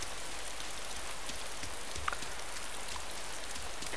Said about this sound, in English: Rain always seems to be, I don't know, less annoying when you're in 3rd person.